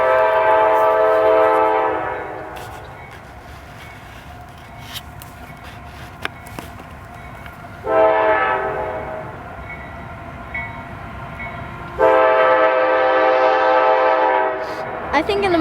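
Freight grain train led by GE AC44C6 diesel locomotives with a Wells Fargo leasing unit mid-train in Wauseon, Ohio, rumbling past with a loud horn blaring in long blasts at the start, middle and end.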